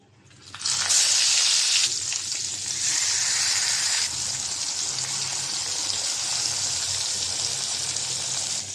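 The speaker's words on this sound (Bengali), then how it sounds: "পটল ভাজা শেষ হয়েছে, এখন বেগুনগুলো ভেজে নেব।" Eggplant slices frying in hot oil after a batch of pointed gourd, a loud bright sizzle bursting up as the pieces go in, then settling into a steady close crackling hiss without talk.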